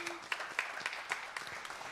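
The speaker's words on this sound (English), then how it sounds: "Let's give her a round of applause." A church congregation at a Sunday service gives a brief round of applause, scattered distinct claps over a low murmur.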